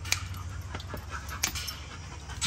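A dog pants in a house, with quick, faint breathy puffs and a few soft clicks over a low background hum.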